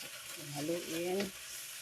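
Mung beans sizzle and fry in a pan while being stirred, a soft scraping stir over a steady sizzle, brief and close.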